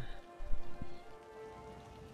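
Steady rain hiss falls across the whole stretch in the city-building game Cities Skylines, soft and even, with a couple of faint low knocks near the start and no talking.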